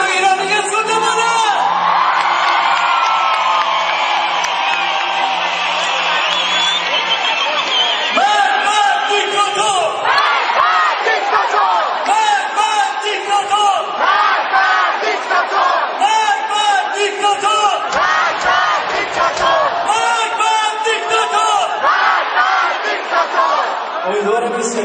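A large concert crowd in an arena shouts and cheers loudly and continuously at an Iranian Nowruz concert, with whoops and chanting swelling throughout.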